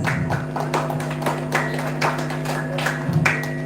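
Scattered, fairly faint claps ring out from a small audience after a contestant finishes at an English speech contest. The individual hand claps come at an uneven rhythm over a steady low hum, with no talking.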